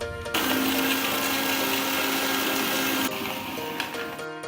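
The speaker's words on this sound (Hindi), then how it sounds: "ये है वाटर, ये है आइस, कवर करके फिर उसको ब्लेंड करेंगे।" Kitchen blender whirring loudly through buttermilk with water and ice for spiced masala chaas, a steady high motor roar running about three seconds before dropping in pitch as it winds down.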